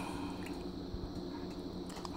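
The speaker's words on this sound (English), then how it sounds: "all that's coming to a boil or a simmer. I don't see the bubbles yet, but I definitely hear it on the bottom of the pan" Tomato bisque soup heating in a pan toward a simmer, giving a steady, soft crackling and faint liquid bubbling from the pan bottom, continuous and close with no talking.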